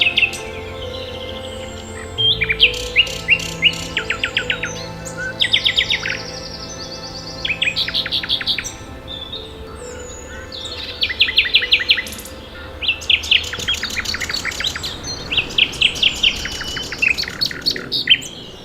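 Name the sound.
nightingale singing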